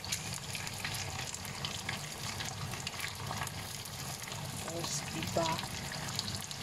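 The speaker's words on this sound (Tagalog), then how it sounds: "Lagay niyo yung coconut cream." Pork frying in a pan as coconut cream is added, giving a continuous busy sizzle with bubbling, liquid crackle at close range while someone speaks briefly over the cooking.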